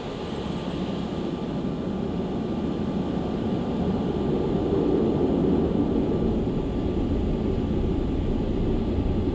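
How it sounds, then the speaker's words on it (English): A Concorde supersonic jet roars on its takeoff run, a loud, steady, broadband engine rumble that holds without a break from start to finish. "Concorde 272 is now cleared for takeoff."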